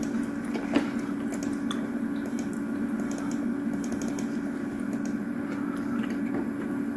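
Faint, sparse computer mouse clicks tick over a steady electrical hum from a desk setup with an Iomega Jaz cartridge drive, quiet and close, with no talking.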